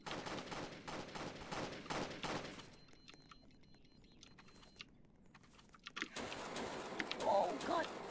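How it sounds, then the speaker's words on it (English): Gunfire in Roblox: a voice is heard first, followed after a quieter pause by a run of sharp, rapid shots near the end. "Dude, some kid is shooting me."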